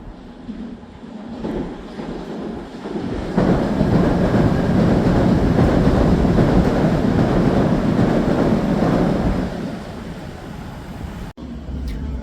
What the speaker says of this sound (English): about to take that train through that bit that I just showed you